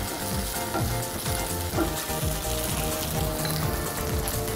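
Ginger garlic paste sautés in a hot pan, giving a dense, continuous crackling sizzle close up, with light stirring scrapes throughout and no voices.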